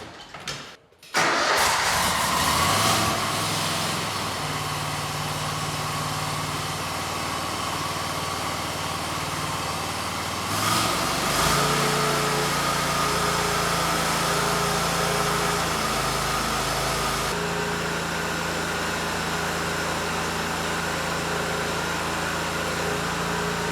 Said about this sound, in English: Exmark wants us to run the engine at full speed for 60 seconds with the drive at full speed